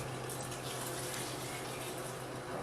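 Water runs steadily into a pot for clam chowder, a continuous rushing pour with a low hum underneath, moderately loud and close, without talking.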